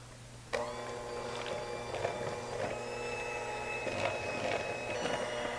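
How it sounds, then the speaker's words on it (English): An electric hand mixer whirs steadily through cake batter, a constant motor drone with beaters clattering against the bowl, sustained and close with no talking. "Take a hand mixer, blend it all together for 2 minutes"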